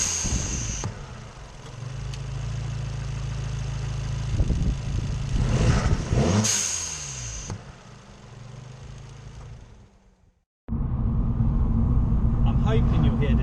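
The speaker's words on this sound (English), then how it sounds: "Hoping you'll hear the sound in here of the blow-off valve as such" An Abarth 595 Competizione fitted with a Bluespark tuning box and Ramair induction kit drives with a low engine rumble. A brief whooshing burst mid-way suggests the blow-off valve, then the engine fades and returns, with someone talking over it.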